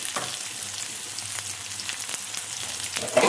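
Onions fry in a pan while a Koraputia Desia style drumstick-leaf dish is cooked, giving a steady, close sizzle and crackle throughout with a slight stir near the end, and no talking.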